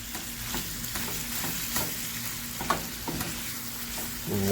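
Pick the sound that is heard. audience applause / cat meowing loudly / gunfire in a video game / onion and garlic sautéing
onion and garlic sautéing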